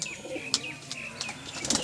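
A flock of collected pigeons being released, wings clapping and flapping in several sharp bursts close by, with faint chirps and coos mixed in.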